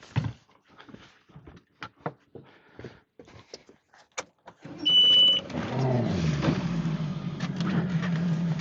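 A fishing boat's motor idles on the Gippsland Lakes during a bream fishing event, settling into a steady low rumble after a few seconds of scattered knocks and clatter close by.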